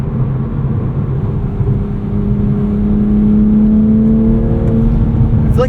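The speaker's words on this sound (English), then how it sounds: "Toyota may have also made some tweaks to the engine sound here" Inline-six engine of a 2024 Toyota GR Supra 45th Anniversary Edition with six-speed manual, heard from the cabin while driving: a loud, steady drone whose pitch climbs smoothly as the car accelerates, with no talking.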